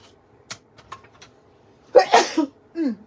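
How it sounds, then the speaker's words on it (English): A few soft clicks and rustles, then a single sharp, close sneeze followed by a short breathy exhale. "I could feel that sneeze coming"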